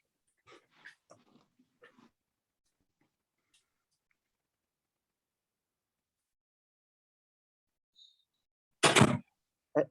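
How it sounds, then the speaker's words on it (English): An office door is shut with a sudden loud thud and rattle near the end, preceded by a long quiet stretch and some faint scattered movement noises, with no talk. "let me close my door"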